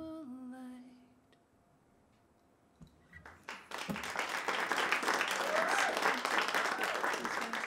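Following a singer's final note, an audience applauds: after a quiet gap a few scattered claps start, then swell into full, sustained applause from a sizable crowd that stays loud to the end.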